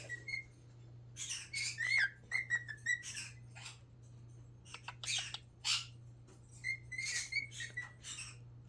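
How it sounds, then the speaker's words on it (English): A pet cockatiel whistles indoors in bright, close, repeated phrases mixed with chirps and squawks, coming in bursts with short pauses over a low steady hum. "I know you're actually whistling at the rocks."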